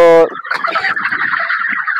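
Several Sonali and brown cock chickens cluck and squawk close by, one sharp call followed by a busy, continuous chatter of fowl.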